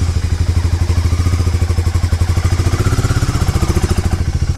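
A Harley-Davidson X440 motorcycle engine runs alone, close and loud, with a steady rapid thumping idle pulse that cuts off abruptly at the end.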